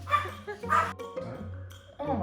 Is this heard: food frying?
no